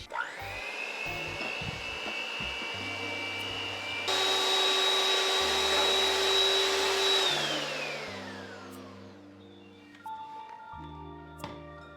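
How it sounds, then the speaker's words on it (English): An electric mixer whirs steadily while beating egg whites into meringue for a pumpkin swirl cheesecake, its motor pitch shifting and winding down toward the end, with no talking. "So now we want to take our mixer and beat these egg whites until they become nice and fluffy as meringue."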